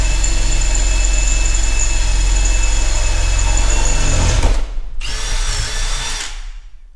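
A power drill drives bolts on a Case 1845C skid steer, whining loud and steady close by, then winding down, cutting out briefly and spinning up again before trailing off.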